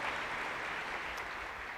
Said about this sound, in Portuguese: Você pode aplaudir a Jesus aí mais uma vez?